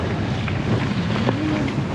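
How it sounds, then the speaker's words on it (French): Strong wind blows outdoors during a mountain bike ride, a loud continuous rushing roar buffeting the microphone throughout, with no talking. "Il souffle le vent."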